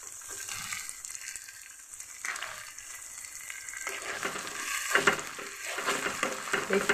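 A mustard and green chili paste fries in a pan with a close, uneven sizzle and stirring, the bursts swelling and fading, growing louder in the second half.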